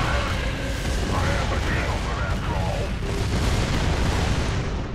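Mortar barrage in Gears of War 2, a dense, continuous rumble of booming blasts and explosions filling the whole stretch at steady loudness, with speech-like game chatter mixed underneath.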